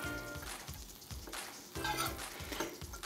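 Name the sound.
butter melting and sizzling in pan for roux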